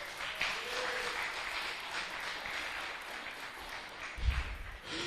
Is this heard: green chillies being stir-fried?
no